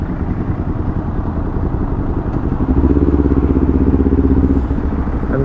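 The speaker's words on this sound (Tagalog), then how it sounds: "nagamit ko rin tong motor na to." A motorcycle runs close by on a ride through Bataan in the Philippines, its engine a loud, steady throbbing rumble that thickens into a stronger, rhythmic pulse midway, with no talk over it.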